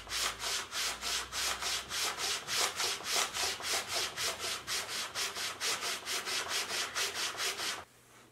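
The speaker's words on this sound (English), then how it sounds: "just after another minute or two of sanding" Steady back-and-forth hand sanding on a wooden Telecaster-style guitar body, a rhythmic raspy scrape repeating roughly three times a second, close and even, stopping abruptly near the end.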